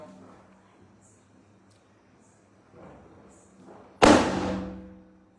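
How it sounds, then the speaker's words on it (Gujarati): A single sharp, loud bang of a Diwali firecracker bursts out after a quiet stretch, its crackling tail fading over about a second, with faint murmuring beforehand. "દિવાળીના ફટાકડા ફૂટી રહ્યા છે"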